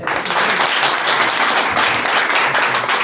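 An indoor audience at a direct-selling business seminar bursts into loud, dense applause, with steady clapping filling the room for a few seconds.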